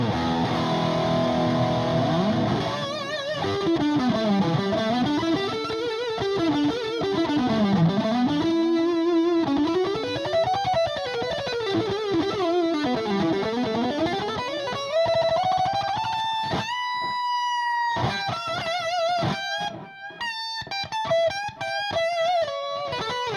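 An electric guitar runs through an Electro-Harmonix Soul Food overdrive pedal with drive and volume turned high, giving a gritty, saturated tone with noise underneath. It plays fast bending lead phrases and then choppy chords, loud and up close, with no talking.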